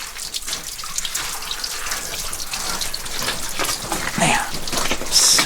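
Water flowing and splashing down inside an underground gold mine, a steady close rushing with a slight pulsing swell and no talk.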